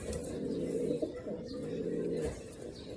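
A pigeon coos steadily in low, throaty murmurs against a soft background hum, with no voices.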